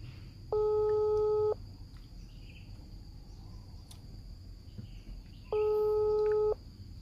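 A phone busy tone from a failed video call sounds twice, each a steady one-second electronic beep separated by a pause, over faint background hiss.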